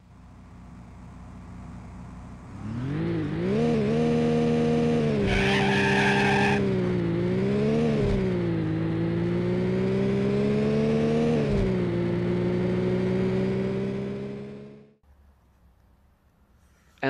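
Racing engine of a car in the 1994 DOS game Need for Speed, loud and steady, rising and shifting pitch as it revs, with tire skids partway through, then cutting off near the end.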